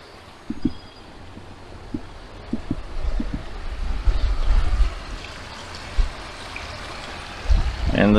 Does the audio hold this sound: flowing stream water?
yes